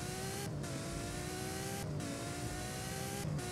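A car engine revs continuously, rising in pitch through three gear shifts with brief dips between them, loud and steady with no voices, in the Roblox game Driving Empire.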